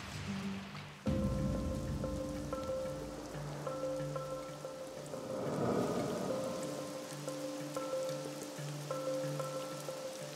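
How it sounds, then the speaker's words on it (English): Steady rain falls around a cold wilderness campsite in a remote area, with a close, continuous patter throughout and faint tonal sounds running underneath. "It's cold. It's raining."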